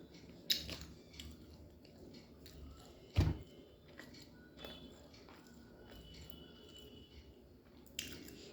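Someone eating food at home: quiet, close chewing with a few sharper bites and soft squishy mouth sounds, no talk.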